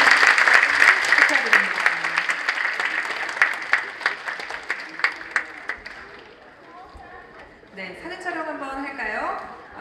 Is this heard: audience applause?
yes